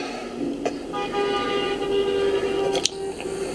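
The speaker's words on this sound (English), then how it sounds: "Those cars right there going around my house 10 times. Honking and every other thing." Passing cars honking as they circle a house, a drawn-out horn tone running under steady traffic noise, with a sharper honk near the end.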